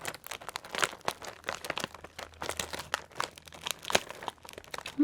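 Sanrio kawaii cookie packaging crinkles and crunches up close in bursts of crisp, papery rustling, moderately quiet with no talk over it.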